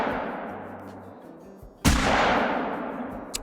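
A single loud shotgun blast fired at a mule deer in the hunting game Call of the Wild, preceded by quiet ambience and followed by a long rolling echo that fades slowly, with a faint click near the end.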